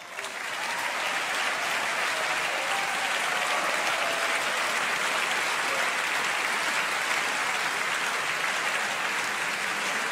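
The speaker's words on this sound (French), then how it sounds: "juste avant que les applaudissements commencent" Sustained concert hall applause from the audience at the Queen Elisabeth Competition in Brussels, a steady dense clapping that fills the room evenly for the full length without talk.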